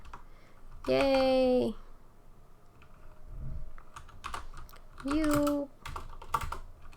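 Light clicking of typing on a computer keyboard, sparse and fairly quiet, runs behind a tutorial for a Scratch banana-launching game, broken by two short bursts of bright cheering game sound effects, with brief speech.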